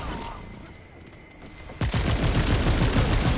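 SMG gunfire in the video game Remnant 2, a sudden burst of rapid, loud automatic shots that begins after a quieter moment and rattles on continuously to the end.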